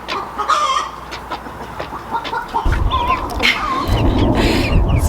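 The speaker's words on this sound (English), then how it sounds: "I don't know how they're sleeping with this chicken singing her egg song" A hen on a farm clucks her egg song in repeated loud, rhythmic squawks and cackles, close by, with other chickens and farm noise in the background.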